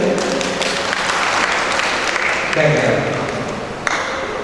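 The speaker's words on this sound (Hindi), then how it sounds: "इनके लिए ताली बजाए चलो" Audience at a Jain religious discourse applauding, a continuous, even mass of clapping that sustains throughout, with a voice and a faint ringing tone mixed in partway through.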